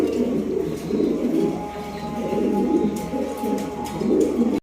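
Pigeons in a breeder's loft coo in low, continuous rolling murmurs close by, with no talking over them.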